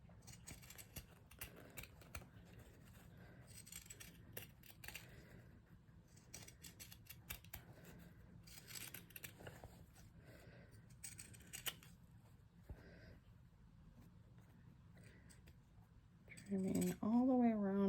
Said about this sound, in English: I'm just taking my pinking shears and I'm going to trim